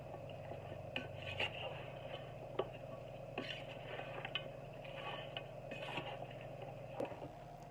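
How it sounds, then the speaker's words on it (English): A utensil scraping and clinking against a bowl while an oxtail mixture is stirred, irregular close taps and rubbing strokes over a low steady background hum, no one talking. "Give it a good stir, just so that everything is very well combined."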